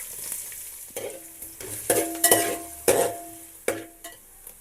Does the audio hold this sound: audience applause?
no